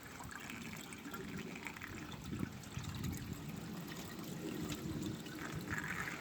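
Water trickles and gushes steadily from a car's drain hole and hose, a continuous close splashing flow with no talk over it.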